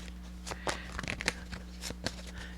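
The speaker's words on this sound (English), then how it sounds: "So let me just shuffle the major arcana cards here." Major arcana tarot cards being shuffled by hand, giving soft, irregular papery riffles and flicks close by over a steady low electrical hum.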